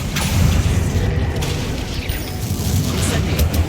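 A summoning spell goes off in the video game Hogwarts Legacy, a dense rumbling magical whoosh with boomy mechanical clatter that holds steady and loud across a few seconds.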